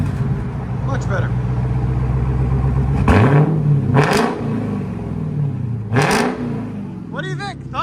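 A straight-piped Dodge Charger Hellcat Redeye widebody idles with a deep, rumbling burble, then barks out three or four loud, sharp revs, close by, with voices talking over it.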